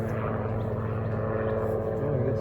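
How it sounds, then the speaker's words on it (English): An airplane or helicopter drones overhead on a rainy garden day, heard as a steady low rumble throughout. "guess it's an airplane or a helicopter"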